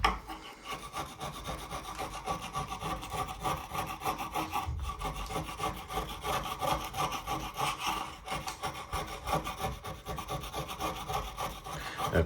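A wooden dresser top being sanded by hand, a continuous close scratchy rubbing with a steady back-and-forth rhythm, no voices.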